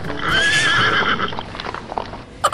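A horse gives a loud, wavering neigh near the start, with hoofbeats clip-clopping and fading over the following seconds.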